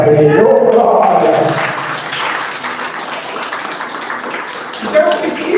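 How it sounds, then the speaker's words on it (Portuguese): Church congregation applauds a preacher, a loud burst of clapping and cheering that fades into a steady, softer patter with voices mixed in. "Palmas para ele."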